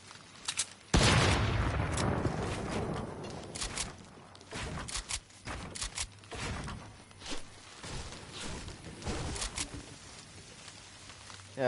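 Fortnite gunfire from a heavy sniper and other guns in an arena match: a sharp, loud opening shot followed by repeated crackling bursts and scattered reports of varying strength throughout.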